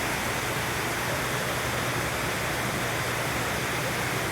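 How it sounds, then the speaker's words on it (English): Treated water pours steadily through the troughs of a drinking-water treatment plant just before chlorine and fluoride are added, a dense, continuous rushing roar like a small waterfall, loud and unbroken throughout with no talk over it. "The water comes in the troughs here and then down and out the bottom"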